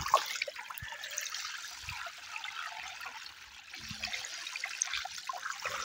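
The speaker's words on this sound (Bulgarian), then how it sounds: "Сега искам да видя колко е бърза изобщо тази река." The fast-flowing Maritsa river rushing in the rain, a steady broadband roar of moving water with faint rainfall, close and continuous with no talking.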